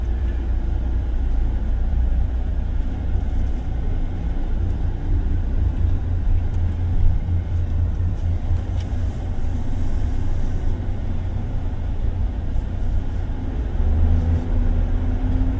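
Inside a Suzuki Jimny 5-door GLX under acceleration, the engine gives a steady, unbroken low rumble layered with road and cabin noise, with no voices.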